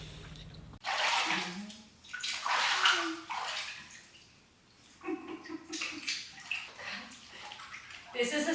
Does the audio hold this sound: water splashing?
yes